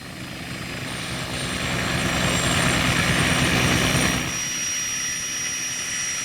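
Westland Scout helicopter in the game Microsoft Flight Simulator 2020: a loud, steady turbine whine with rotor thrum that swells in the middle and then eases slightly, with no voices.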